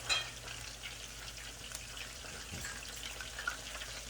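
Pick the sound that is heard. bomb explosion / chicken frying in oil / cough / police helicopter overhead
chicken frying in oil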